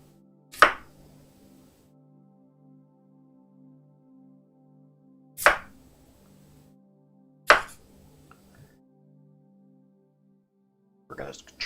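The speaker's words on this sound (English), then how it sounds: "I have to quarter the onions first, don't I?" Knife chopping through onions on a cutting board while quartering them for Ethiopian doro wat: three sharp, isolated thuds spaced a few seconds apart, close and clear over a faint steady hum, with a fourth cut starting at the end.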